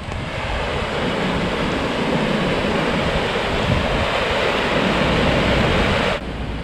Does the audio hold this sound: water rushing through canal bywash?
yes